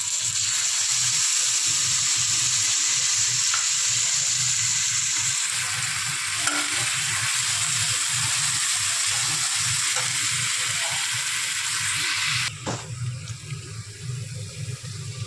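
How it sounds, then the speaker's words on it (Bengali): Onions fry in hot oil in a home kitchen pan with a loud, continuous sizzle, then chopped tomatoes go in and the hiss abruptly drops to a softer, uneven bubbling. "পেঁয়াজটা একটু ভাজা ভাজা হয়ে আসছে। তারপর এতে অ্যাড করব আমি টমেটো কুচি।"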